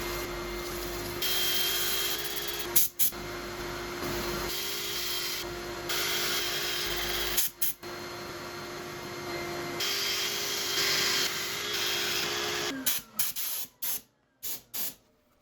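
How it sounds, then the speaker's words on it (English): Wood inlay being sanded, a steady close hissing rasp that runs continuously for long stretches, broken by a few short pauses, then ends in several brief separate passes; no voices. "I'll set up for sanding"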